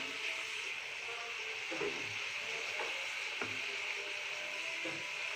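Mixed vegetables with chili and spices frying in a pan, a soft steady sizzle with a few light scrapes of a spoon against the pan, fairly quiet and close.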